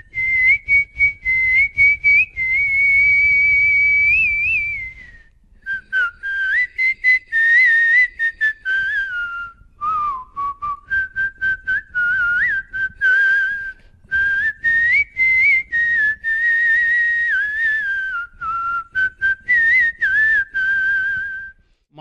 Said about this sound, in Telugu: ఏ పాటనైనా సరే ట్యూన్ తెలిస్తే చాలు దాన్ని తన ఈలస్వరంతో పాడుతారు